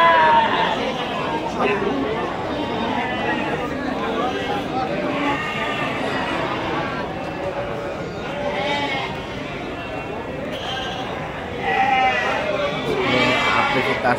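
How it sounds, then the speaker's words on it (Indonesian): Goats bleat repeatedly at a busy livestock market where sheep are also sold, with overlapping calls near and far over crowd chatter and people talking. "Nih, kambing-kambingnya."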